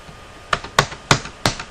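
A computer keyboard at a Minecraft gaming setup gives four sharp, close keystroke clicks at irregular intervals over a quiet background, with no talking.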